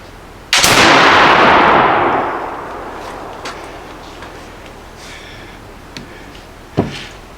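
A Traditions .50 caliber flintlock Pennsylvania rifle fires one loud, booming shot whose rumbling echo fades over a couple of seconds, followed by faint handling clicks and a sharp knock.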